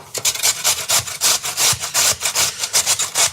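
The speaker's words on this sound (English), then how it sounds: "All right, now grab your grater out." A carrot rubbed quickly against a grater while preparing a frittata, a fast run of rhythmic rasping strokes, close and fairly loud, with no speech.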